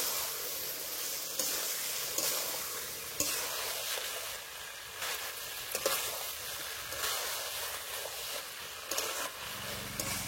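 Jackfruit with ground cumin, dried red chili paste and spice water sautés in a pan, a continuous close sizzle with soft stirring scrapes and small crackles throughout.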